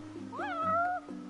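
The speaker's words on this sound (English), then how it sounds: "You're one spoiled cat." A single clear, drawn-out meow rises then holds steady from a cat in Final Fantasy 15, close and distinct over soft background game music.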